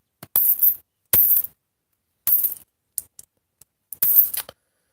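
Bright metallic clinks of nickel coins jostled and knocked around in separate loud bursts, with short isolated clicks between them, close up.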